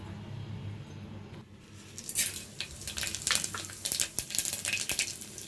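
Hot oil crackles and spits as whole spices hit a pressure cooker, with bright sizzling bursts and a few utensil clinks, close by and without talk.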